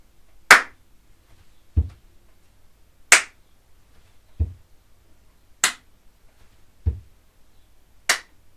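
A stamp-and-clap rhythm pattern from a Year 4 music lesson: a low thudding stamp alternates with a bright, sharp clap, each separated by a rest, repeating evenly four times in a quiet room.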